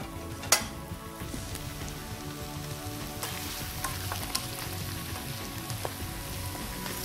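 Paneer cubes sizzle and fry steadily in a pan of aloo mattar, a dense continuous crackle with a sharp clack near the start and occasional utensil taps, close and moderately loud, no voices.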